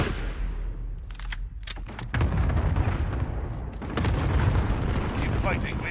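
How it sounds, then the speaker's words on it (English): A cluster strike in Call of Duty Modern Warfare sets off a rolling series of heavy, overlapping explosions and rumbling booms with crackling debris and gunfire. Voices talk over the blasts. "Allied cluster strike inbound"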